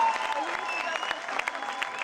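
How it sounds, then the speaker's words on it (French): A restaurant audience in Martinique gives warm applause for two pastry team members, with brisk, steady clapping from many hands and a few sharper individual claps standing out. "Je crois qu'on peut les applaudir bien fort."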